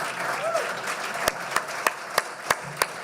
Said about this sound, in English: You should be clapping now.